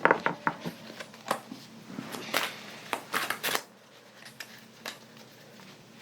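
Tarot cards shuffled and spread by hand, a run of crisp riffling taps and flicks close up, then quieter soft slides of cards settling near the end.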